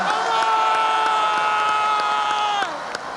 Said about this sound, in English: we should give a little extra round of applause to your champions, the North Dakota State Bison